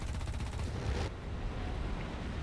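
Aircraft guns firing at a howitzer from an AV-8A Harrier in War Thunder: a dense, rapid burst of cannon fire that cuts off abruptly after about a second, leaving a steady rumbling engine drone.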